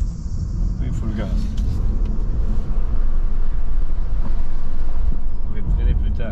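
A car accelerates hard at full throttle, its engine rumbling loud and close inside the cabin and rising steadily while people talk over it.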